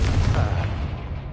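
The Confringo fire spell blasts in a Hogwarts video game, a loud deep booming rumble that holds steady and then slowly fades.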